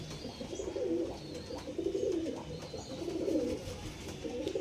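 Mastan breed Andhra pigeons coo in repeated low, rolling phrases, several calls in a row at close range with steady background noise and no talking.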